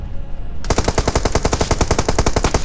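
Sustained machine gun fire in PUBG Mobile, starting abruptly after a quiet moment and continuing as a steady, rapid, evenly spaced stream of loud close shots.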